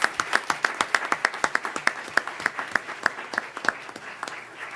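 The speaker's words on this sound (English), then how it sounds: "can we have one more round of applause for these incredibly talented teachers?" A round of applause for teachers at a county school board meeting: a small audience claps in distinct, fairly evenly spaced claps that fade slightly toward the end, heard alone without talk.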